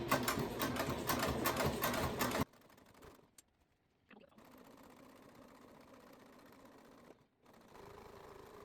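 A sewing machine stitches a seam on a fabric tote bag, running loud and steady for about two seconds before dropping to a quieter, softer hum with brief pauses.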